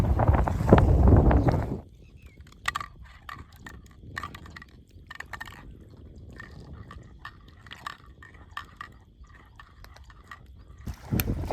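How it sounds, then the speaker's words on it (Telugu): Strong wind gusts outdoors buffet the microphone on a fishing boat, loud rumbling at first, then fading into lighter gusts with faint creaks and knocks of the boat. "గాలి ఎక్కువగా వేస్తుంది చూడండి"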